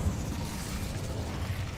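Incendio fire spell cast in the Hogwarts Legacy video game, a steady roaring burst of flame with a low rumble that holds at an even loudness for under two seconds, with no talk over it.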